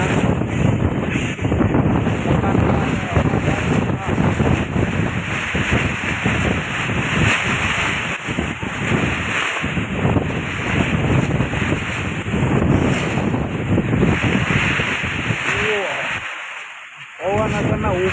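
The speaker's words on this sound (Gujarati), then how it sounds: "જોરદાર પવન અટરના રાજુલામાં ચાલુ થઈ ગયો છે." Strong gusty wind before rain in Rajula buffets the microphone in loud, continuous roaring bursts, nearly drowning someone talking close by, easing only briefly near the end.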